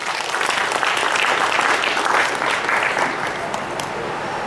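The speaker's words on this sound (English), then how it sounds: "Let's clap for that." Audience at a cooperative members' education function clapping in a dense, continuous wash of applause that stays loud and even.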